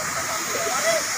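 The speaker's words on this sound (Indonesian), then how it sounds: "Ini tempat air terjun ini." A scenic waterfall gives a steady wash of hissing, rushing water filling the background while a person speaks over it.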